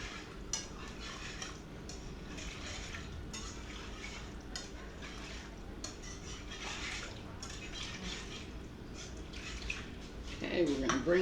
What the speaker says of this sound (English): We're going to whisk this in.